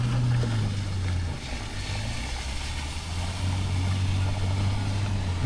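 A Sea-Doo personal watercraft draws closer out of the fog on open water, its engine a steady low drone with a slowly shifting pitch, heard alone with no talk and no other sounds standing out.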